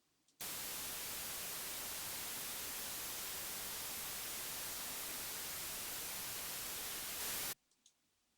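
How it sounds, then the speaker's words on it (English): White noise generated and played back through Wwise audio middleware: a loud, steady, full-band hiss that starts abruptly, holds evenly for about seven seconds, then cuts off sharply. "let's just play the white noise we created"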